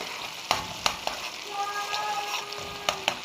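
Tomatoes frying in a pan with a constant sizzle as a spoon stirs them, several sharp knocks of the utensil against the pan, nearby and without talk.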